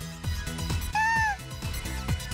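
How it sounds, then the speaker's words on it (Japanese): A cat in the Megadimension Neptunia VIIR video game gives a single short rising-and-falling meow over steady, thumping game background sound, with no speech. "なんだ、猫か。"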